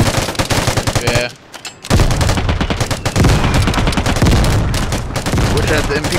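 Loud, rapid automatic gunfire from the video game Vigor fires in dense bursts with a brief pause, dominating close up, with voices talking under the shots.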